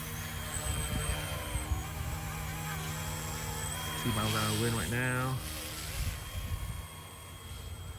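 A Yu Xiang UH1 Huey remote control helicopter flies outdoors in wind. Its small motors give a steady buzzing whine that surges in pitch near the middle, while someone talks over it.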